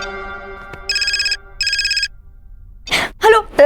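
A telephone rings with an incoming call in a Hindi domestic scene, two short bursts of electronic trilling tones after a fading held chord, followed by brief talk.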